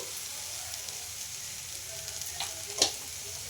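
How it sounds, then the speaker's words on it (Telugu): Potatoes seasoned with salt and chili flakes fry in a pan with a soft, steady sizzle, faint and close, with a couple of brief utensil clicks near the end. "ఒక మూడు నిమిషాల పాటు వేయించుకోవాలి"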